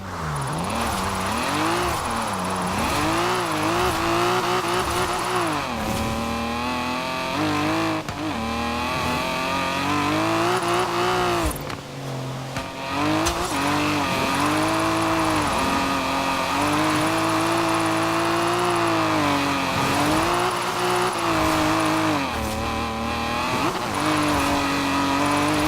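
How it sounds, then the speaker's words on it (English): A drifting car in the racing game Forza Horizon 4, a continuous engine roar rising and falling through revs with long tyre squeals layered over it, loud and close, with a brief dip midway. "Now let's really shred those tyres"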